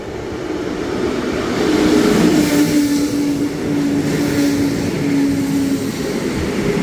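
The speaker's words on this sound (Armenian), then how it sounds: "Գնացքի եկավ արդեն։" A train arriving at a Brussels station, a loud, continuous rolling roar with a thin, sustained brake squeal partway through and no talk.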